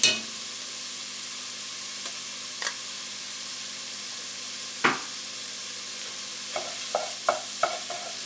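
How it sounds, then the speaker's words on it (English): Tomato paste frying with garlic in a pot gives a faint, steady sizzle, broken by a few sharp scrapes and clicks of a spoon stirring against the pot. "you just want to cook the rawness out of that tomato paste"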